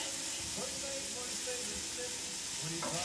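Garlic frying in a pan while cooking a smoked chicken curry, a steady close sizzle and hiss with faint stirring scrapes throughout, no talking heard over it.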